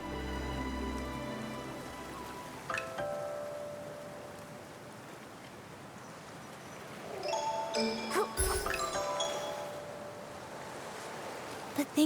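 Strange rain falls steadily in the Infinity Nikki game world, making a soft, even hiss across the whole stretch, with faint musical chimes and tones drifting over it and a brief swell of clatter near the end.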